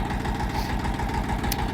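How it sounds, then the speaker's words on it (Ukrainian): A tractor engine runs steadily under load as the tractor digs in with all four wheels, a dense, loud, continuous diesel chugging with no break. "Ось так трактор вривається, всі чотири колеса."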